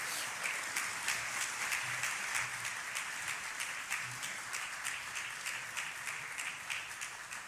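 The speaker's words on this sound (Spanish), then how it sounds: "pido un fuerte aplauso para recibir al doctor Leonel Fernández en este escenario" Sustained, steady applause from a large audience welcoming former Dominican president Leonel Fernández onto a stage at a chamber of commerce candidates' forum, dense clapping holding evenly throughout without talk.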